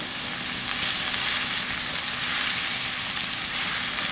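Garlic, onion and crab stick frying in a pan, a steady loud sizzle with dense crackling that stays even throughout, close up and alone.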